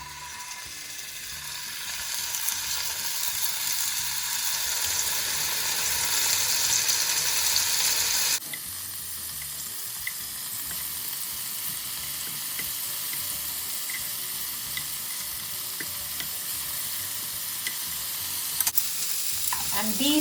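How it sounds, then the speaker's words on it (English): Paneer slices fry in about a tablespoon of oil in a hot pan on high heat, giving a loud, steady sizzle with a brief shift midway and a couple of faint clicks near the end. "I'm just going to cook these paneer slices on high heat"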